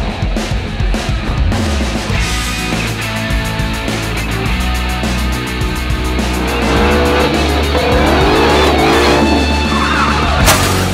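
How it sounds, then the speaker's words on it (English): Ford Mustang Shelby GT500 driving through California canyons, its engine a loud, continuous roar that rises and falls with revving sweeps toward the end. "Ford Mustang Shelby"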